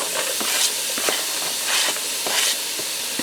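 Ground beef with finely diced onion browning in a Ninja Speedi, a steady close sizzle and hiss with faint scraping knocks as the meat is broken up, no talking.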